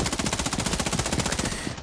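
Rapid automatic gunfire from the ScarFall 2.0 battle royale video game, a steady fast burst of evenly spaced shots lasting nearly two seconds, loud and close with no talk over it.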